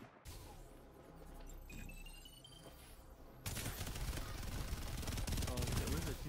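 Bursts of AK rifle fire from the Farlight 84 shooter game, loud and rapid, with a dense stretch of sustained shooting in the second half over a busy game soundscape.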